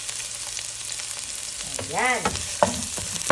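Garlic and onion sauté for pakbet, a steady frying sizzle with stirring, and a voice speaks briefly partway through.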